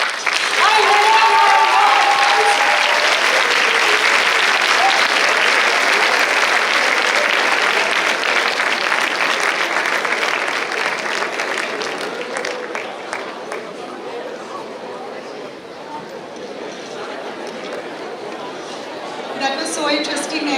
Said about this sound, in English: give me one clap, two claps, hands up, hands down